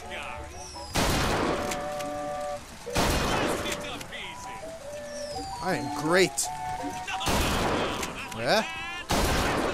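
Repeated bursts of gunfire at a carnival shooting gallery in BioShock Infinite, loud broadband blasts recurring every couple of seconds, mixed with bright electronic game tones and a voice talking between shots.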